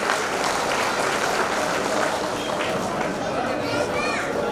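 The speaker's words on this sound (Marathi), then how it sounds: "त्या प्रत्येक आईसाठी जोरदार टाळ्या झाल्या पाहिजे." Loud, steady applause from an audience honoring mothers, a dense continuous clatter of many hands holding at one level throughout, with faint crowd chatter mixed underneath.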